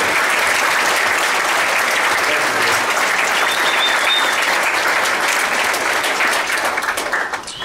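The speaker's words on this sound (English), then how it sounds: "Let's give them a nice round of applause for their efforts" A crowd applauds the organizers of an evening event, a thick, continuous roar of clapping from many people, loud and even throughout before fading slightly at the very end.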